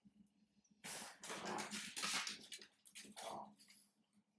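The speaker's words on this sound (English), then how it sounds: "My dogs are being so crazy right now." Two pet bulldogs whimpering, snuffling and playing nearby, a burst of excited huffs, whines and scuffling after a quiet start, fairly faint overall.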